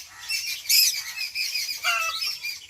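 Birds call sharply and excitedly in alarm, rising and falling chirps and squawks overlapping in agitated bursts, fairly close, with no people talking.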